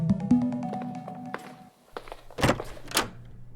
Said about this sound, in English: The door flew open.